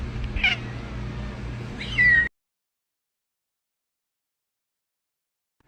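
Cooter the cat lets out a short meow, then a louder, strained meow with a snort, close up, before abrupt silence.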